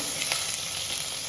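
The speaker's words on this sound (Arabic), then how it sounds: "نخليو الزبده تذوب." Steady, close sizzling of butter melting in a hot pan, an even crackling hiss with no other sounds.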